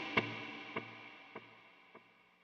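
Electric guitar set up for a worship-song lead, with light compression, dotted-eighth delay and reverb: one plucked note followed by three fading delay repeats about 0.6 seconds apart, washing into a reverb tail.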